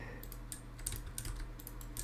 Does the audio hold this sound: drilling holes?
no